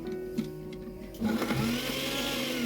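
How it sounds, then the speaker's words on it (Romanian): A blender motor starts up and runs with a loud whirring roar, chopping soaked dates into a thick mass; a faint hum comes before it kicks in. "le punem în blender și le mărunțim"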